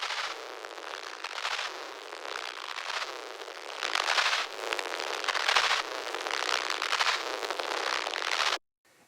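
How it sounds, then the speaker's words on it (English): Distorted, gnarly, scratchy crackling boosted by a Waves TransX transient plugin, a dense, loud, steady stream of popping crackle swelling in waves before cutting off abruptly near the end. "making the distorted, gnarly, scratchy sound even more violent"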